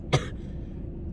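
A single short, sharp cough from someone recovering from a cold, sitting close and loud, followed by quiet room tone.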